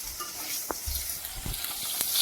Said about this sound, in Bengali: এই দেখো এদিকে ডিম ভাজা হয়ে গেল